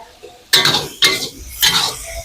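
Chopped ingredients go into a wok for Thai-style fried chicken, making three sharp, loud clattering bursts about half a second apart, each fading into a short sizzle.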